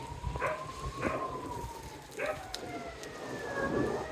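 A firefighting plane passes overhead during wildfires in Spain, its siren a faint rising and falling tone in the distance beneath outdoor noise and voices of people talking nearby.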